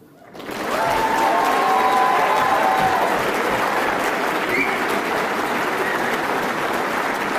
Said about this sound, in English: Please give them a huge and rousing round of applause.